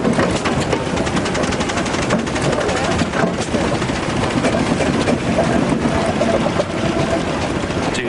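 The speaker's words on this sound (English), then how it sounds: "1917 Garrett Showman's tractor." A 1917 Garrett showman's steam tractor runs at a steam event on the Isle of Wight, giving a loud, continuous mechanical rumble with dense rattling and clanking throughout.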